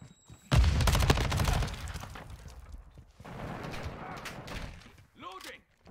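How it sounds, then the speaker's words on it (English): A Semtex grenade goes off in Call of Duty: Modern Warfare II with a sudden loud blast, then a rumbling decay and a second, softer wave of noise, ending with brief whooshing game effects. "Throwing Semtex."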